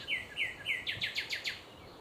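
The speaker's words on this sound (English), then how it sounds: "I don't know if you can hear these birds." Birds chirp on a morning by a creek: a run of short, bright tweets repeats steadily, then quicker chirps follow at close to moderate distance over a quiet outdoor background, with no talking.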